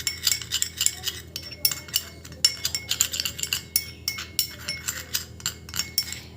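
A metal spoon clinks rapidly and repeatedly against a glass or bowl while stirring potato juice mixed with a little raw milk, bright close-up taps coming in quick irregular bursts for several seconds.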